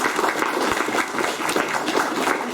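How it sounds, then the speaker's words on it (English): Meetup audience gives a round of applause after a DevOps tech talk, dense steady clapping from a room of people, moderately loud and continuous without speech. "Big round of applause for Adrian."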